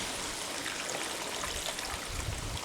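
Liquid, mineral water for brining cucumbers, is poured into a jar, producing a short steady splashing trickle that is close and continuous with no talk.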